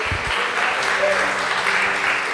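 A church congregation applauds in praise, a steady dense wash of clapping filling the room throughout, with a few voices mixed in underneath.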